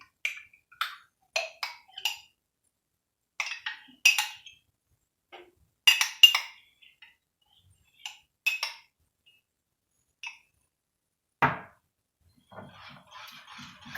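A spoon stirring magnolia pudding with cream in a pot taps and clinks sparsely and irregularly, with quiet gaps between, then gives a single sharper scrape and a soft, rustling stir near the end.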